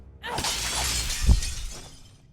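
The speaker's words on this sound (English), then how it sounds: "Mirrors smashed." A mirror shatters loudly in a video game, a sustained crash of breaking glass with a heavy thud partway through and fragments tinkling as it fades.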